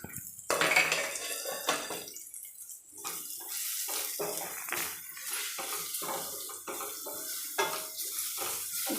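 Coriander powder, garam masala and chili powder fry in a pan with a steady sizzle, broken by scraping and stirring clatter from a spoon against the vessel, with no talking.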